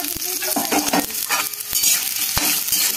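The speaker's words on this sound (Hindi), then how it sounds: "उसके बाद इसमें दे देते हैं ये काटे हुए प्याज को रखे थे जो काट कर" Chopped onions fry and get stirred in a pan for chicken curry, giving a steady close sizzle with scattered clicks and scrapes from the spoon and no speech.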